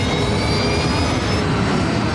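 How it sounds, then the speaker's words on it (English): The wing-mounted jet engines of an American Airlines airliner power up with a loud, steady roar and a high whine, heard alone without voices. "The crew brings up power to the engines on the wings."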